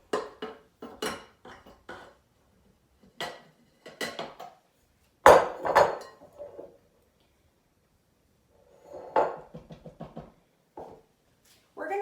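Tsoureki dough being mixed with flour in a bowl, irregular knocks and scrapes of utensil against bowl in short clustered bursts separated by quiet gaps.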